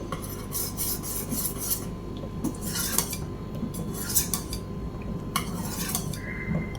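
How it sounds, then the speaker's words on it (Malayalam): A spoon stirs thickening pineapple milk pudding with cardamom powder in a pan, giving continuous close scraping and rubbing against the metal with occasional sharper clinks. "അതും കൂടെ നമുക്കൊന്ന് ഇളക്കി മിക്സ് ചെയ്തെടുക്കാം."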